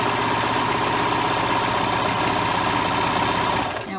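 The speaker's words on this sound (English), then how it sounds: "we're going to actually serge right onto the edge" A serger sewing machine runs steadily while stitching a rolled hem edge. Its fast, even mechanical whir and rapid needle clatter stay close and constant, then stop abruptly at the end.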